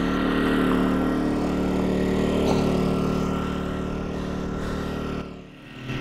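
A Yamaha 2KW inverter generator engine runs steadily right after its choke is pushed back in, a close, constant buzzing drone with a brief dip near the end, heard alone without talk.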